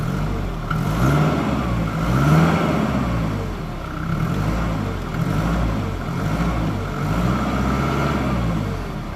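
A 1997 Mercedes-Benz C220D W202 diesel engine revs steadily, its low, rough throb rising and falling in several swells, close and fairly loud with no talk.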